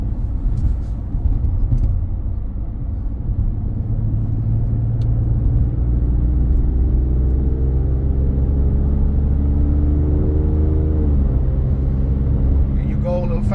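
An Alfa Romeo car drives and brakes hard, a steady close engine and road rumble with a pitch that rises as it speeds up and then drops away under braking, with a faint rattle near the end.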